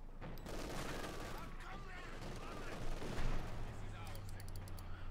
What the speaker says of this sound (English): Light machine gun fire raking down their vicious penal troops in the centre.